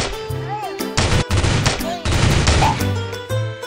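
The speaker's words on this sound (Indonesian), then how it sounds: "Kita pakai pistol sih, pakai pistol." Rapid bursts of video game gunfire, loud and near, fill the short stretch in clustered volleys with brief gaps between them.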